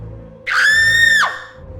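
A woman lets out a single loud, sustained, high-pitched scream lasting under a second, rising sharply and cutting off abruptly, used as a horror story sound effect over a low background drone.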